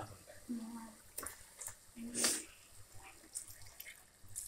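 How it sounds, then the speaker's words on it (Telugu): Water is splashed into a pressure cooker holding mutton curry. A brief, faint pour and dripping comes between bits of soft speech in a quiet kitchen. "నీళ్ళు వేస్తున్నాను మనకు గ్రేవీ కావాలి కదండి అందుకే నీళ్ళు వేస్తున్నాను"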